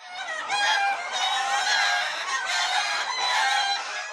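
A dense chorus of chickens at a poultry farm, many birds clucking and squawking at once in a loud, continuous, close-up din.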